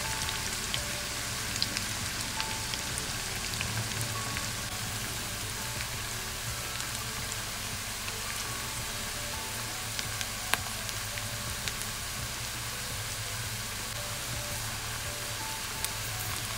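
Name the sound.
onions frying in hot mustard oil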